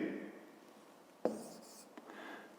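Pen writing by hand in a notebook during a fifth-grade math exercise: quiet, close scratching strokes with a couple of brief taps, soft and low in level, with no talking.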